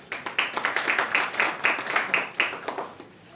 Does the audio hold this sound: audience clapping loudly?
yes